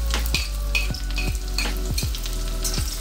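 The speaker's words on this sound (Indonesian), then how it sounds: "tumis sayur asin" Salted mustard greens stir-fry with shallots and garlic in a hot pan, a continuous loud sizzle broken by a regular series of spatula scrapes and tosses, roughly one every half second, with no talking.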